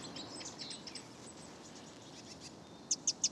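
A robin gives three sharp, evenly spaced alarm calls near the end, faint over a steady hiss of outdoor background with weaker chirps earlier, heard while a red kite soars over houses.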